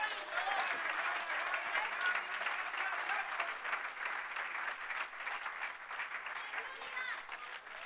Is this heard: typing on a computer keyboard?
no